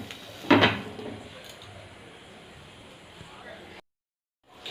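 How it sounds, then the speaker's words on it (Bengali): A lid goes down on a pot of mango pickle with a single short clatter near the start, followed by a low, quiet kitchen background that cuts off abruptly before the end. "চিনি দেওয়ার পর ঢাকনা দিয়ে ঢাকা দিয়ে দেব।"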